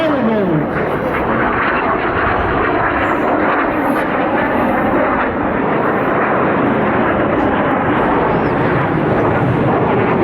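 Red Arrows jets at an air display in Portsoy, a loud continuous roaring jet rush filling the whole stretch without letup.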